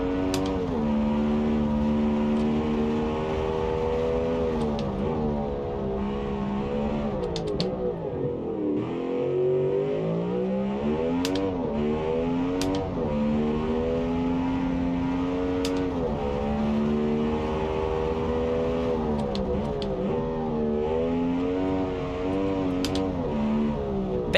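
A race car climbing Pikes Peak in BeamNG roars continuously under load, pitch climbing through gears with a brief dip mid-run, loud and close with faint tire squeals, no talking.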